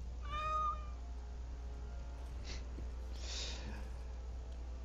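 A cat meows in the video game Dragon Age Origins: Awakening, one clear rising-and-falling call early on, followed by fainter breathy snorts over steady low background hum.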